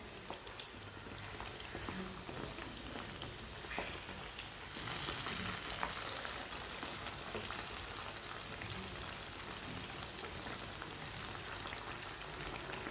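Sweet flour tikiyan (meethi tikiyan) frying in a pan, a steady soft crackle and sizzle of hot oil running continuously with no talking.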